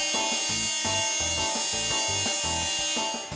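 Fine-grit sandpaper is rubbed by hand along the curved edge of a wooden headboard, a close, continuous rasping with rhythmic back-and-forth strokes roughly twice a second.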